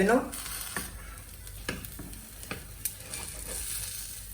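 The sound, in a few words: chickpea pancake (besan cheela) sizzling in pan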